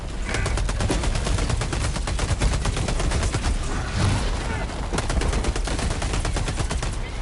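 Rapid automatic gunfire from a Helldivers 2 firefight, dense bursts of shots rattling continuously and loudly for several seconds with little pause.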